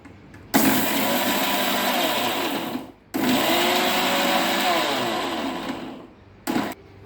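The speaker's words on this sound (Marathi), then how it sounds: "आता मी मिक्सरमधून वाटण वाटून घेते" A mixer grinder grinds whole cumin and coriander into a spice paste for palak vada pav: a loud, steady motor whir in two long bursts separated by a short pause, then a brief final pulse.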